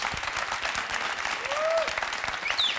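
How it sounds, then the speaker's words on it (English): An audience applauds after a leadership debate on a televised competition, with dense, steady clapping throughout the short span and faint whistles rising above it. "A round of applause for our second debate."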